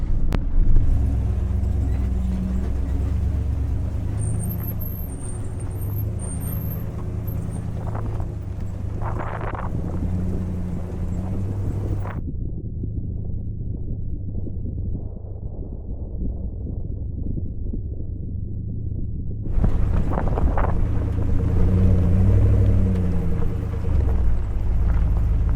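A vehicle drives the Hurrah Pass trail in Moab with a steady low rumble and wind noise throughout, a brief muffled stretch in the middle, and no talk.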